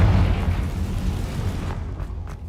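A Confringo explosive spell blast goes off in Hogwarts Legacy, a loud, deep booming burst with a rumbling tail that fades over a couple of seconds.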